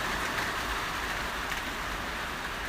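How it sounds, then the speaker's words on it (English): Steady rain falls as a soft, continuous hiss, fairly faint and even throughout, with no talk over it. "You hear that rain, guys?"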